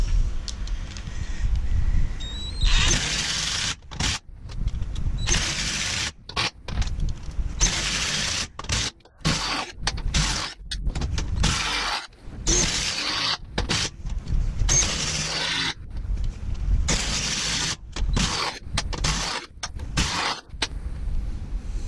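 A Milwaukee Fuel or Bauer cordless drill bores a series of holes in repeated bursts of loud, whining motor and grinding with short pauses between them, close to the listener and with no talk.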